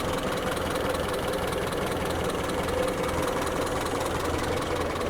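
An old engine, freshly topped up with fluids and oil, runs at a steady idle with a low throbbing rumble and a faint knocking rhythm, continuous and fairly close.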